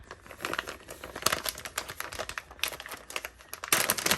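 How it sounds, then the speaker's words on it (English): Plastic packaging of a Rocketbook notebook crinkles and tears open along the top, a close series of crackling rips and rustles, loudest near the end, with no talking. "So you just take it and tear it right along the top"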